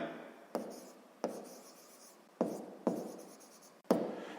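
Pen or chalk strokes scratch steadily during a sixth-grade maths lesson, with several sharp taps marking new strokes over the continuous writing.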